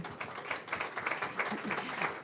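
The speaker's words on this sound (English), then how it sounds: "Please, let's give them a round of applause." An audience at a cultural diplomacy arts festival session applauds the panelists, a dense patter of clapping heard from a moderate distance at moderate volume.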